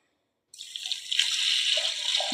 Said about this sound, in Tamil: அதுக்கு தேவையானதுக்கு தண்ணி ஊற்றிக்கிறோம்